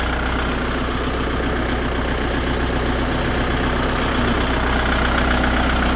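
A 2018 Kubota tractor engine idles loud and close. Its low diesel rumble stays steady and unbroken throughout, with no voices.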